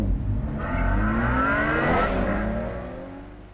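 A Ferrari's engine revs up in a Batman video game, rising in pitch to a sustained high whine before easing off and fading, loud and close with no talking.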